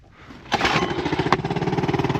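A small Honda 2.3 outboard boat motor, air-cooled, catches and runs with a fast, pulsing single-cylinder putter, loud and close, after a quiet moment.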